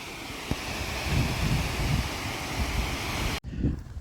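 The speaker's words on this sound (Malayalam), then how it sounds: "ഇത് നമ്മളെ തെലുങ്കാന ആന്ധ്ര ബോർഡറാണ് ഈ ഒരു വാട്ടർഫോള്" Ettipotala waterfall on the Telangana–Andhra border, fed by dam water, gives a steady, loud roar of rushing water like surf, with wind buffeting the microphone, continuous for over three seconds before a brief cut.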